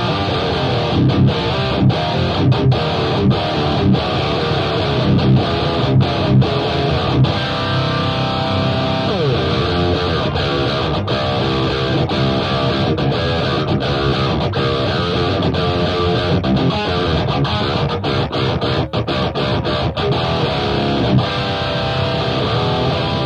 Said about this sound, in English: so if I turn it on, you'll hear my sort of heavy riffing tone.